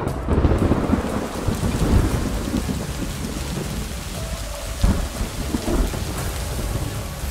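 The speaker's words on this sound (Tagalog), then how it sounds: "panay pa rin ang pagkidlat at pagbuhos ng malakas na ulan" Heavy rain pours down steadily while thunder rumbles low and long, with a sharper crack partway through; no voices.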